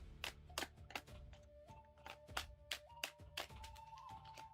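Tarot cards shuffled by hand, a quick series of crisp riffling flicks and soft slaps repeating in bursts, close up, with faint music humming underneath and no talking.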